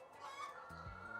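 Free-range hens in an automated poultry barn give a few soft, short clucks against a faint barn hum, fairly quiet and with no talking.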